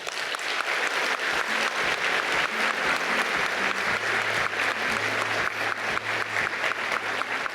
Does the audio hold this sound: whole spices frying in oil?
no